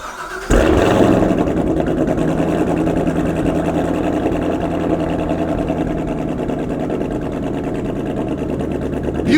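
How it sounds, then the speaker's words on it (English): A Corvette Z06 V8 cold-starting: a sudden loud catch and bark, then a rough, uneven high idle with a choppy, stumbling misfire-like pulse, close and continuous. "You can audibly hear how weird it sounds on a cold start. It's like, it sounds like it's misfiring."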